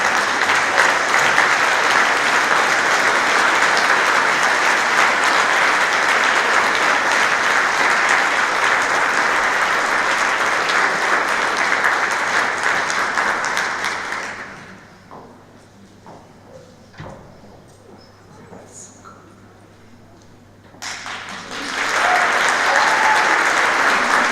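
Conference audience at a corporate volunteering awards ceremony applauding award recipients, loud sustained clapping for about fifteen seconds that drops to a quiet room with faint shuffles, then resumes strongly.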